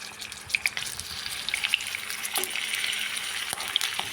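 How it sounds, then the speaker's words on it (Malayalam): Marinated chicken pieces coated in masala, chilli powder, turmeric and salt fry in hot coconut oil, giving a steady close sizzle with a few sharp spatters and light utensil clinks. "ചെറുതായിട്ടൊന്ന് ഒരു 3 മിനിറ്റ് ഒന്ന് അങ്ങോട്ടും ഇങ്ങോട്ടും തിരിച്ച് മറിച്ചിട്ട് ഒന്ന് ഫ്രൈ ചെയ്തെടുക്കാം"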